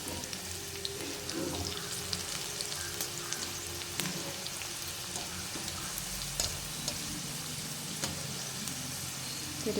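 Okra frying in oil in a pan, a dense continuous sizzle with crackling pops, close and fairly loud, with occasional soft scrapes as pieces are turned.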